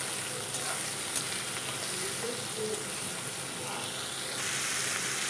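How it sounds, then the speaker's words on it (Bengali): Marinated prawns frying in hot oil for a Bengali prawn dopiaza, a continuous soft sizzle with light stirring scrapes, fairly quiet and steady, no talking. "মেখে রাখা চিংড়ি মাছগুলো আমি দিয়ে ভেজে নিচ্ছি তেলের মধ্যে দিয়ে"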